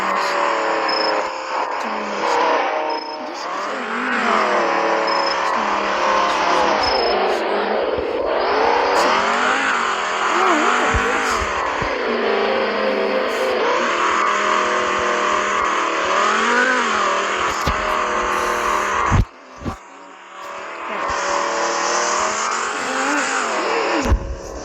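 A new car surges hard under acceleration during a test drive, its engine roaring loud and steady with rising and falling revs, a brief dip and a sharp knock near the end before the roar resumes.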